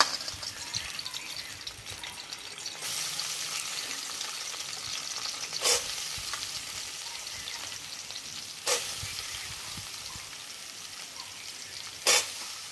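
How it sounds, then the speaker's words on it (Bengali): Squeezed soybean chunks frying in a pan with a steady broad sizzle throughout, broken by three sharp bright crackles or spatters; no voices. "এবার সয়াবিনগুলোকে চিপে চিপে এর মধ্যে দিয়ে দেবো"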